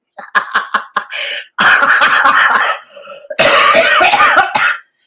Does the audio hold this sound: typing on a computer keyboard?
no